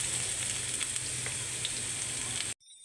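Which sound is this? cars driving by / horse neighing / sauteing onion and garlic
sauteing onion and garlic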